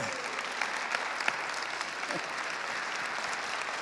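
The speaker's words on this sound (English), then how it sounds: "Jim Acosta, big applause." An audience applauds steadily after a panel discussion honouring Jim Acosta, a dense, even wash of many hands clapping that holds throughout with a few sharper claps standing out.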